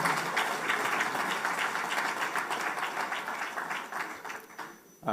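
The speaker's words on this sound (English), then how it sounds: "Please, a round of applause for him." A conference audience applauds the deputy governor of Nigeria's central bank, a steady fairly distant wash of many clapping hands that fades away toward the end.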